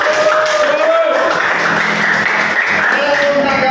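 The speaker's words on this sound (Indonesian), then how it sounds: "Tepuk tangan buat kelompok 3." A classroom of students applauding a presenting group, dense continuous clapping mixed with cheering voices throughout.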